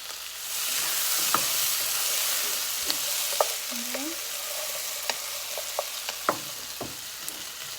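Vegetables for biteku teku stewing and frying in a pan, a continuous close sizzle with scattered sharp pops and light clicks of stirring, no talk.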